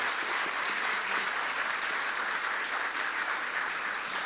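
Sustained applause from an audience at a lecture-hall gathering, farewelling a naval commander; dense, steady clapping fills the whole stretch with no voices over it.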